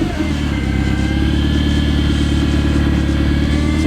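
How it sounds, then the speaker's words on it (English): A Mitsubishi Evo X idles on a cold start through its stock exhaust, giving a steady, deep, even rumble that stays loud and constant throughout with no revving. "I just want to give you guys a cold start on how Josh's exhaust right now sounds"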